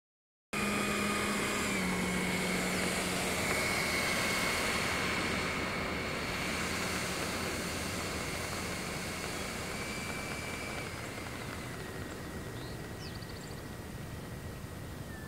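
A Freewing F9F-8 Cougar 80mm EDF scale model jet flies overhead, its ducted fan giving a loud, steady rushing whine with a thin high tone that slowly eases off as the jet moves away.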